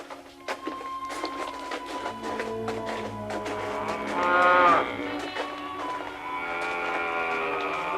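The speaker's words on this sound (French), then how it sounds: "Qu'est-ce qu'elles ont à meugler comme ça?" Cows moo in long, drawn-out calls, one after another, with a fuller, louder bellow in the middle and faint shuffling steps around them.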